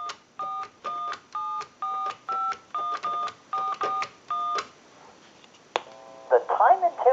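Touch-tone keypad of a Western Electric 2500 desk phone dialing a time and temperature number: about eleven evenly spaced beeping tones in a quick rhythm, followed by a brief pause, a click and ringback on the line.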